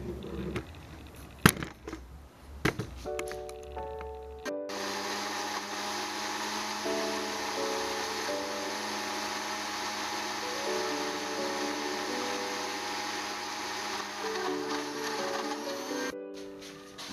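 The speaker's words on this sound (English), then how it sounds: "I'm about to blend everything together." A blender whirs steadily, blending yogurt and fruit into a thick smoothie, after a few clicks and knocks at the start; the motor runs loud and continuous to the end.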